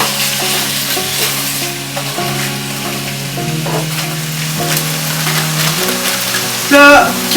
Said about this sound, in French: on commence par mettre des morceaux de bœuf dans le poêlon. So, là, on va juste les cuire à moitié